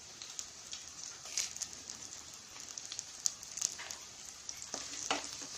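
Chopped garlic, ginger, green chilies and curry leaves frying in hot coconut oil, a steady close sizzle with brief crackles and the occasional stirring scrape.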